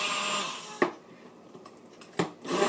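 A blender whirs faintly as it mixes egg with dry ingredients to start homemade mayonnaise, a steady low motor hum broken by two brief sharp knocks.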